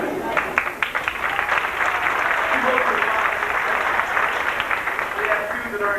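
An audience at a sports awards banquet applauds continuously for several seconds, a dense, fairly loud clatter of many hands filling a hall.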